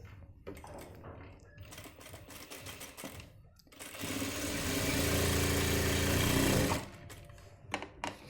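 An electric sewing machine stitches the back pocket of a pair of men's trousers in one loud, steady whirring run of about three seconds, with handling noises and quiet talk before and after it.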